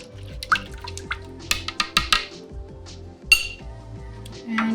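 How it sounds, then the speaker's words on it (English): Spoon clinking against glass or a jar while stirring sugar into homemade kombucha, a run of light, bright taps and chimes coming in uneven bursts, close and fairly clear with no talking. "So just get that sugar as dissolved as you can. Might take a bit of extra stirring."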